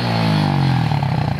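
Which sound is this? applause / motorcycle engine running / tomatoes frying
motorcycle engine running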